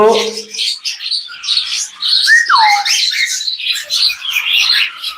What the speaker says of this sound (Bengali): আমার টেম করা একটা পাখি